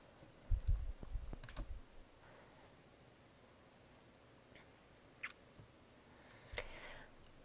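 Several computer mouse clicks while a patient chart opens in a Meditech EMR, a cluster of close, quiet clicks early on followed by a few isolated faint clicks, with no talk.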